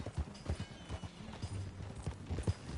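Horse hooves clip-clop in Red Dead Redemption 2, a steady, fairly close trotting rhythm of repeated hoof strikes, with a faint whinny in the mix and no clear talk.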